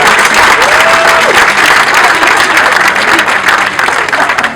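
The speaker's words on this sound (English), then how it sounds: "give them a huge round of applause" Loud, dense applause from a large crowd at a polo match fills the whole stretch, with a brief whoop rising over the clapping.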